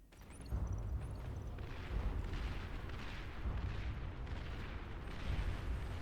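A torpedo launcher fires in the strategy game Beyond All Reason amid a dense, rumbling battle. Heavy booms and low thuds roll on continuously and close, with no voices.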